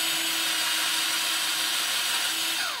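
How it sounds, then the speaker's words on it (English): A power drill bores steadily through a Marvel Legends action figure, a continuous high whirring grind up close and fairly loud, without pause or talk. "we're going to drill right through here"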